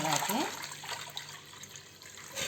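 Water is poured into a bowl as a soft, continuous splashing trickle, with a voice briefly heard at the start and a faint swell near the end.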